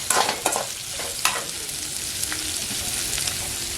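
Sliced onions sizzle in a pan for potato masala, with several sharp clatters of a spoon stirring near the start before settling into a steady, close frying hiss.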